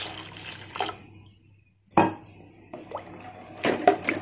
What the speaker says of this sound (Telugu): సో దీంట్లో కొన్ని వాటర్ పోస్తున్నా పల్సా చేయడానికి.